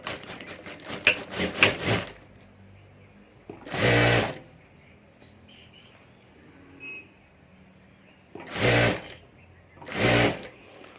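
A sewing machine stitches a zip onto fabric for a handbag in several separate bursts, first a quick run of short pulses, then longer steady whirring runs with quiet pauses between them.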